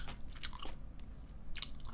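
Close, quiet eating of a GS25 pork loin cutlet lunchbox, with soft biting, crunching and wet smacking chews in a few bursts, and no talk.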